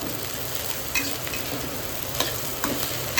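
Fried rice with egg and long beans stirred and fried in a pan, a steady close sizzle broken by a few sharper scrapes of the spatula, with no voices.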